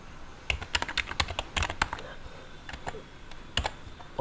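Someone types code on a computer keyboard in short irregular bursts of crisp key clicks, close and clear against quiet room noise.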